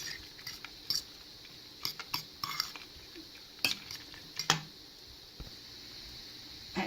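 A utensil scrapes and clinks in a pan as rice pilaf is fluffed and flaked with a little broth, making irregular sharp metallic taps and soft stirring sounds, close and fairly quiet, with no talking.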